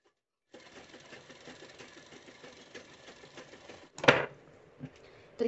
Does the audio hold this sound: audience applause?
no